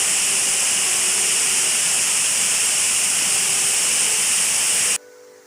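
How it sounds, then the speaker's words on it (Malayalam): Water plunging about 120 feet down Aruvickachal waterfall in Kerala makes a steady, dense roaring hiss that holds evenly, then cuts off abruptly near the end. "ഏറ്റവും മുകളിൽ നിന്ന് മുത്തുമണികൾ താഴേക്ക് ചിതറിത്തെറിച്ചെത്തുന്നത് പോലെയാണ് വെള്ളം പതിക്കുന്നത്"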